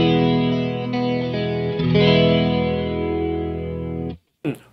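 Guitar runs through a Free The Tone Tri Avatar TA-2H chorus pedal set to its slowest rate, a sustained strummed chord swirling gently and slowly, loud and alone, then cut off abruptly with a brief burst after a gap.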